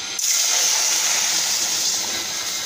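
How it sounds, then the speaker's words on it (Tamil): Water poured into a pan of roasted spices while making kalani kulambu gives a steady, fairly loud hissing sizzle that holds for nearly three seconds after a sharp onset. "இப்போ நாம் இதில் தண்ணி ஊற்றி வச்சிடலாம்."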